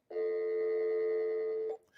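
A steady telephone ringing tone on a radio show's call-in phone line holds for about a second and a half, loud and close, then cuts off abruptly.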